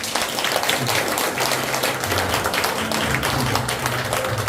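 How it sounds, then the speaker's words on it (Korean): Audience in an auditorium claps for the board chairman at a presentation event, dense loud applause that continues steadily throughout, with a low murmur of voices underneath. "우리 이사장님에게 박수 한번 쳐주시기 바랍니다"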